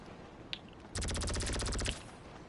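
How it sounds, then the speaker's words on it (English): Alien weapon fired in GTA Online Arena War, a single sharp shot followed by a loud rapid automatic burst of about one second of evenly spaced shots, up close and alone. "let's go test out the guns"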